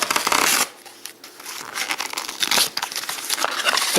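Someone handles the paper protective envelope of a Google Cardboard viewer, producing close, loud crinkling and tearing bursts in irregular spurts with brief quieter gaps.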